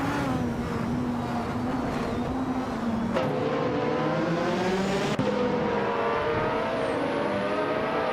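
1988 Formula 1 cars race around the Shanghai circuit in a racing video game, engines whining steadily at high revs with shifting pitch and occasional gear changes, loud and continuous.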